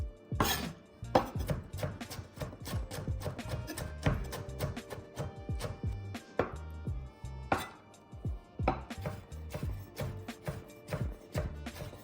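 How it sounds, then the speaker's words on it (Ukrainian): A knife chops a skinned tomato finely on a board, a close, loud run of rapid taps with brief pauses between bursts; no one speaks. "беремо помідор і дуже дрібно нарізаємо його"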